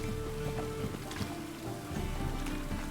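Steady rain in The Witcher 3: Wild Hunt on a dark, stormy night, a continuous hiss of falling drops with faint watery washes underneath, unbroken and moderately loud with no talk.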